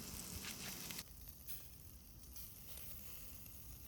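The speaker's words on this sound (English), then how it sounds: "It is very fun to grill it over charcoal." Pork belly skewers brushed with sake grill over charcoal, giving a faint, close sizzle that is louder for the first second and then settles into a softer steady crackle.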